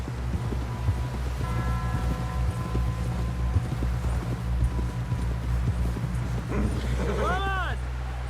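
Horse hooves pounding steadily in Red Dead Redemption 2, a rhythmic clip-clop running under a low rumbling game soundscape, with character voices talking over it and a brief whinny-like call near the end.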